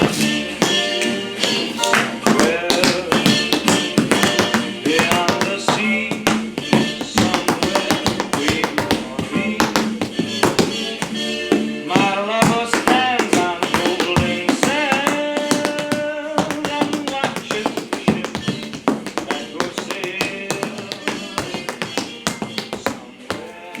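Tap shoes work through a choreography to a song, dense rapid taps and shuffles over the loud full swing band recording for about twenty-four seconds, the footwork partly blended into the music with no talking.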